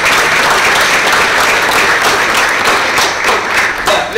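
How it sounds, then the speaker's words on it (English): A conference audience gives a round of applause to the panelists at an economic outlook event, a loud, dense, continuous clapping that fills the room, with no talk over it. "Let's just have another round of applause for the panelists,"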